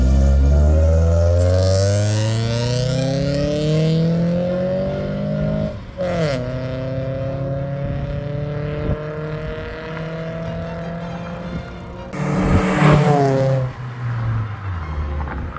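A Toyota Vios rises in pitch as it accelerates on a test drive at an outdoor car meet, loud and close at first, then drops to a lower steady drone, with two brief gusty bursts along the way.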